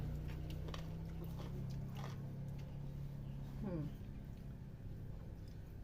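Two people eat a weight-loss meal, with crisp bites and wet chewing close by in the first seconds. A steady low hum sits underneath, and a voice is heard briefly.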